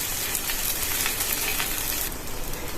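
A roti brushed with oil sizzles on a hot griddle, a loud continuous hiss and crackle that holds steady and drops slightly near the end.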